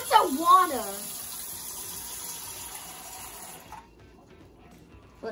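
Tap water runs steadily into a pot for cooking noodles, a constant close gush that stops near the end, with a voice briefly at the start.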